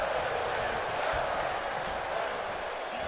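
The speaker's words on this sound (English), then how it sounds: "But listen to the crowd. The crowd is all behind Fandango." A video game wrestling arena crowd from WWE 2K22 roars and cheers in a dense, steady wash of noise throughout.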